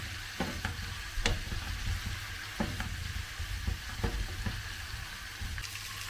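Grated tomatoes hit a hot frying pan, giving a continuous soft sizzle with scattered clicks and scrapes of stirring, close and fairly quiet.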